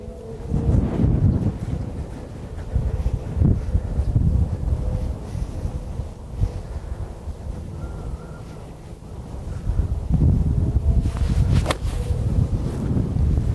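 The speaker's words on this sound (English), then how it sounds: "Stiff breeze in my face" A stiff breeze blowing across a golf course, heard as heavy gusting wind buffeting the microphone in low rumbling surges that swell and ease, with faint background sounds underneath and no talking.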